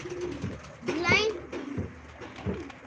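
Pigeons coo in soft low calls among a flock of a keeper's own birds at a live pigeon auction, heard close under steady talk from a man and a child.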